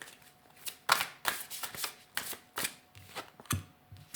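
Oracle cards, archangel-themed, being shuffled by hand: a series of crisp riffling swishes in a regular rhythm, each burst fading before the next, close and fairly quiet.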